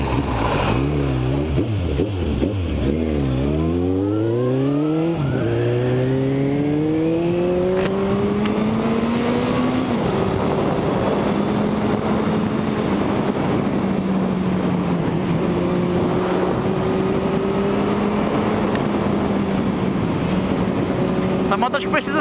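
Motorcycle engine revving and pulling through gears while riding, rising and falling pitch sweeps close to the microphone, with steady wind rush throughout and a voice speaking over it.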